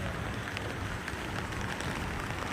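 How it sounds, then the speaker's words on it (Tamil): Heavy rain falling in Hosur, a dense steady hiss of drops pattering on surfaces, loud and unbroken with no voices. "ஒசூர்ல வந்து சரியான மழை ஃப்ரெண்ட்ஸ்"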